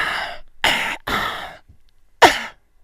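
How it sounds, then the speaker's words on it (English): Three breathy exhales and inhales of a beatboxer's breathing pattern, close and fairly loud, spaced with short gaps and a final sharp intake. "so I'm breathing there. I'm going"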